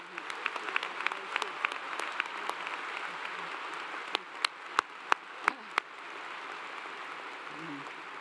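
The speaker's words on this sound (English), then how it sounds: "with a great big round of applause for the amazing job they are doing" A large commencement audience at Clemson University gives a sustained round of applause, dense clapping with a few sharp nearby claps standing out before the noise thins into a softer crowd murmur near the end.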